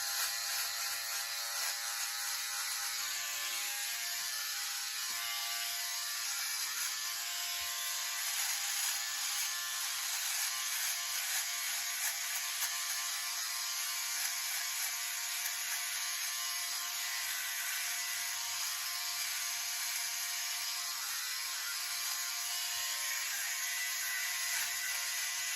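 Philips OneBlade electric razor shaving a beard, a continuous high buzzing whir that stays steady and close throughout with no talking.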